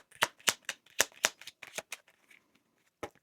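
Tarot cards slipping and snapping as they are drawn from a deck during a Taurus reading, a quick run of crisp, close card flicks followed by a pause and one final snap.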